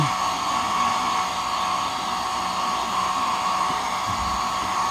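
A steady, loud blower or hair-dryer whoosh runs continuously and close by, with no voices, drying a fogged Honda Click scooter panel.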